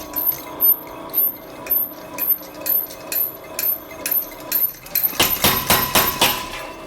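A treadle hammer pounds steadily at a slow, even rhythm of sharp metallic strikes, about two per second, then speeds up into a rapid, heavier hammering run near the end.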